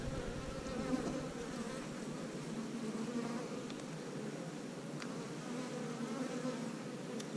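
Honey bees in a crowded backyard hive make a dense, continuous buzzing drone, steady and close with no voices.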